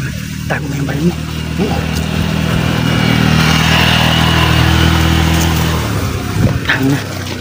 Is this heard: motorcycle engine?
yes